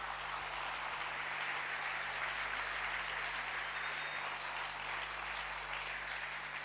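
A church congregation applauds together during a worship service, a dense, steady wash of clapping that holds evenly throughout at a moderate distance, with no speech over it.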